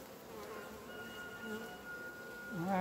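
Honey bees buzz continuously at an open hive of a young colony, a close, even drone with individual bees passing near and rising in pitch at the end.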